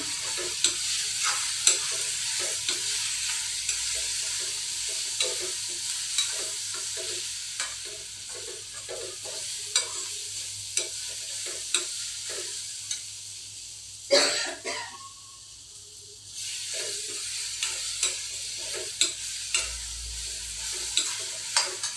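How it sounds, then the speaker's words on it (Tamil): Papaya pickle fries in a pan while a spoon stirs it, producing a continuous sizzle with rhythmic scraping taps throughout, close up, with a brief cough partway through. "இனி கிண்டி வச்சுக்கலாம்."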